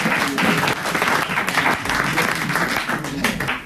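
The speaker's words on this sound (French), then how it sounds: "On t'applaudit" A studio audience on a French game show applauds loudly and steadily throughout, a dense wash of clapping with some crowd noise mixed in.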